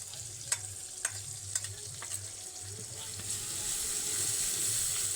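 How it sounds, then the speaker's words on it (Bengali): Ginger paste being stirred and fried with melted tomato in a pan, a steady close sizzle with a few sharp clicks of the spatula early on, the frying hiss swelling louder toward the end. "আদাটাকেও কয়েক সেকেন্ডের জন্য নেড়ে নেব, যাতে কাঁচা গন্ধটা চলে যায়।"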